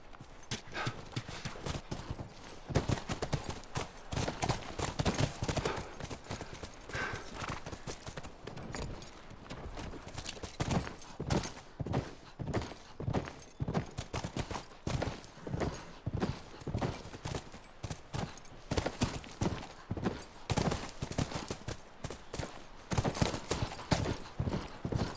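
Horses trotting in The Last of Us Remastered, a steady run of clip-clop hoofbeats that stays close and fairly loud for the whole stretch, with an occasional faint whinny and no talk.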